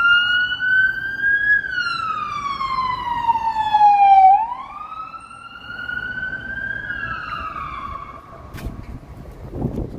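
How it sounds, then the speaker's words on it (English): A police car siren wails on State Street in Chicago, loud and close, its pitch sweeping down and then up again in long slow glides over city traffic noise. "Here comes a police car."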